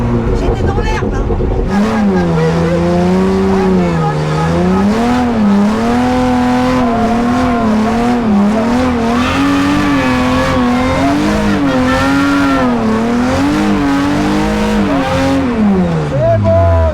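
A drift car is held on the throttle in second gear, its engine wailing loud and steady with the pitch rising and falling as the tires scrub and squeal, then the revs fall away at the end; voices talk faintly underneath.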